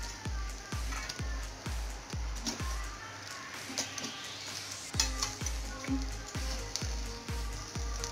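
Tandoori chicken sizzles and crackles in a hot pan on a switched-off stove, with rhythmic scraping and stirring strokes of a utensil repeating steadily under the frying hiss.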